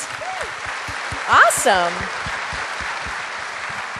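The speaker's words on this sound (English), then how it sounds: "Applaud these people." Applause from a conference audience at a conservative political gathering, a brief burst of clapping rising over steady crowd noise while a speaker talks.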